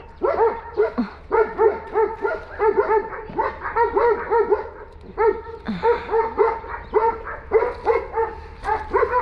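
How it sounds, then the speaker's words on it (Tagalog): Several dogs bark loudly and continuously, overlapping yips and barks in a rapid, agitated rhythm close by. "Ang mga aso, tinatawalan ako."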